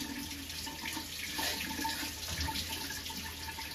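Lukewarm tap water runs steadily from a faucet while a dug-up, century-old buried item is rinsed under it, a continuous close hiss and splash with no talk.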